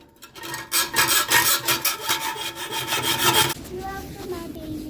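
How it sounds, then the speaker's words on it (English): A hacksaw rasps back and forth through the steel bands on a Pinnacle boiler with a stainless steel heat exchanger, quick close strokes in a steady rhythm, then the sawing halts, leaving a quieter scrape. "My sawing is too loud for your baby's ears?"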